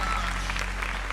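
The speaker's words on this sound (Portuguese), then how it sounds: "Aplauda o Senhor!" A church congregation applauds during worship, a dense, even burst of clapping from many hands that fills the whole short moment.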